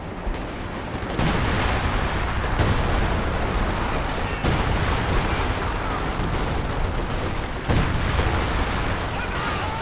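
Gunfire and artillery strikes in Company of Heroes 2 pound without pause, with dense bursts of shots and heavy booms overlapping in a loud, continuous battle din.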